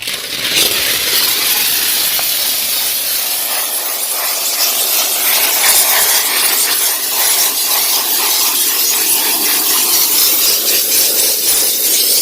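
A vapor steam cleaner runs continuously during move-out cleaning of a house, a steady close hiss of escaping steam lasting throughout with no talking.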